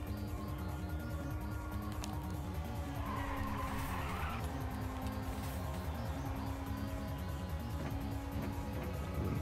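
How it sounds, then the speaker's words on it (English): Race car engine in the Ridge Racer 2 video game, floored with nitrous, a steady loud droning roar with tire skidding and squeal layered on top throughout. "We're flooring it. We're flooring it. Using that nitrous."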